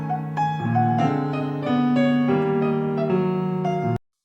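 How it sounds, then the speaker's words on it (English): Piano chords sound in steady succession, with short detached notes punctuating a sustained harmonic bed, then stopping abruptly at the end. "Listen out for the staccato played notes."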